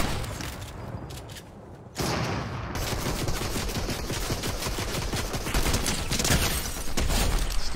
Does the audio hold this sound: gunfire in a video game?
yes